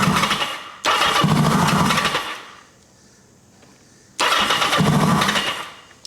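A 1980 Kawasaki KZ750 motorcycle engine with a spark fault cranks in two long loud bursts, popping and firing without catching, separated by a pause of near silence.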